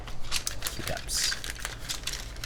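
Keys clacking on a mechanical keyboard while testing the stabilizers, a few quick uneven taps, close, over a low steady hum.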